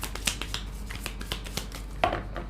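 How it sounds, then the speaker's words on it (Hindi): A tarot deck is shuffled by hand, making quick, papery flutters and soft slaps at an uneven rhythm, heard close and fairly quiet. "last shuffle"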